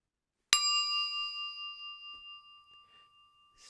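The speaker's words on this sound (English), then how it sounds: "I waited for the elevator's closing door bell to signal the start of the downhill race" Single bright elevator bell ding as the doors close, struck sharply and then ringing out steadily as a clear, slowly fading tone in an otherwise quiet space.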